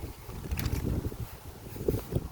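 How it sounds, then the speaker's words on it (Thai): Strong late-rainy-season wind buffets an outdoor banana plantation, a steady low rumbling roar of wind noise with gusty swells and no voices. "ช่วงนี้ลมแรงครับ"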